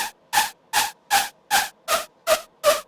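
A dry synth screech patch from Serum with no reverb, playing eight short, evenly spaced bursts, each harsh and bright with a pitched edge, cutting off sharply into silence between hits.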